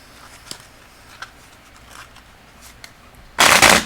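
Tarot cards are shuffled in one quick riffling burst at the end, after a few soft taps and handling noises.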